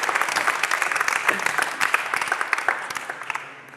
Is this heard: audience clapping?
yes